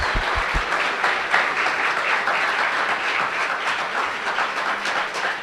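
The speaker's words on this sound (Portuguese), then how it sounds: "Uma grande salva de palmas." Audience applause at a Science Days 2022 talk about NASA, a dense, steady wash of clapping that fills the short stretch evenly with no voices.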